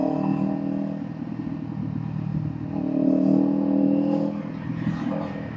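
A Kawasaki Ninja 500 motorcycle ridden while lane splitting on the way to the beach, its engine giving a steady, close drone with wind rush that swells around the middle of the ride.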